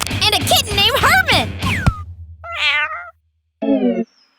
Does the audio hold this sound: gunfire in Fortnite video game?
no